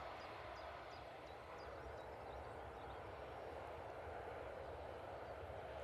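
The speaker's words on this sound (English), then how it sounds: "Beautiful landing from the EasyJet." An EasyJet airliner landing at Manchester Airport, a distant, steady broadband engine roar that persists evenly throughout.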